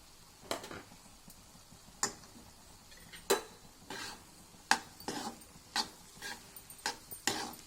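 A spoon scraping and tapping against a pan while paneer bhurji is mixed, giving sharp irregular clicks every half second or so over a quiet background.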